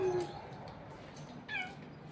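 A cat meows softly twice, a short cry and then a brief higher one, close by in a quiet room.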